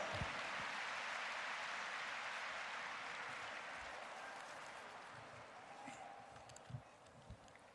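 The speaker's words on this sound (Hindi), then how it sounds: "तालियों द्वारा अभिनंदन" Large audience at a celebration inaugurated by the Prime Minister applauds to welcome the Governor of Gujarat, a broad wash of clapping that slowly fades, with a few louder thumps near the end.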